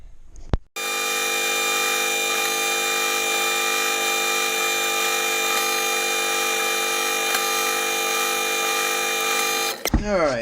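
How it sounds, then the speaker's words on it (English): A drill press starts up drilling Kydex and runs at a steady, loud whine for several seconds, then spins down as a voice begins. "let's go over to the drill press and get these drilled out"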